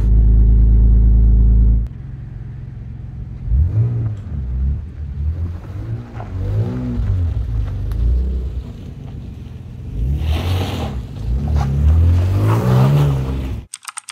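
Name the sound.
MG ZT 190 car engine running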